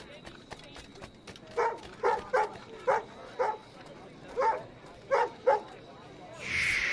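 Dog barking in the video game Assassin's Creed Rogue: a steady run of about ten sharp barks in a rough rhythm, fairly close and clear over a faint ambient backdrop, with a brighter noise burst at the end.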